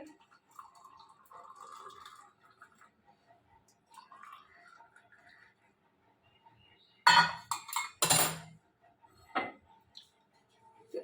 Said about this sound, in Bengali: আর এখন আমি ঢাকাটা খুলে চাটা ঢেলে নেব